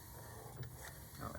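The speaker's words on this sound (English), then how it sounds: "Print head is rubbing somewhere." A DTF printer built on an Epson XP15000, its print head rubbing and scraping as it travels, a steady mechanical whirr with faint scuffing catches throughout, close and continuous.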